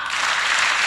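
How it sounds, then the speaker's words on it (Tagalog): Audience clapping at a teen Vacation Bible School gathering, a short dense burst of applause that stays loud and steady throughout. "Palakpak."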